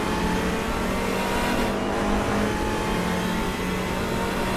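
A McLaren race car in the RaceRoom racing game roars past during a DTM 2021 race at the Lausitzring, a loud, steady engine drone filling the whole span with no talk.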